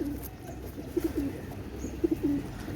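A male pigeon held in hand gives soft, low coos in a few short bursts, close but fairly quiet against light background noise.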